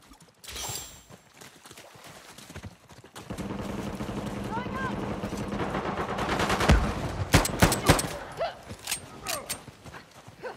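Gunfire in the video game Uncharted 4: A Thief's End, with bursts of shots beginning about a third of the way in and growing denser toward the end, heard under game voices and ambient noise.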